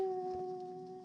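Uno, a hound dog out in mountain canyon country, bays with a long, steady, tonal howl that fades slightly, heard at a moderate distance without talk.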